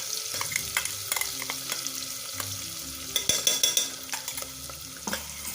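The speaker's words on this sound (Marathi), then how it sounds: "थोडासा कांदा परतून घ्यायचा त्याच्यातच आपण हे लसूण खोबरं कोथिंबीर बारीक केलेलं हे घालायचं आहे" Onion sautés in a pan with garlic, grated coconut and chopped coriander for Nashik-style rice, a steady sizzle broken by repeated spatula scrapes and clinks, with a cluster of sharper strokes near the end, close and voiceless.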